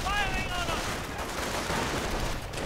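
Dense battlefield gunfire from a WWII strategy game, with sniper shots and a BAR automatic rifle blasting away, forming a loud continuous crackle of shots and explosions, with brief whistling tones near the start.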